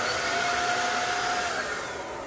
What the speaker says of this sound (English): Keep your sprayer level all the time, back and forth.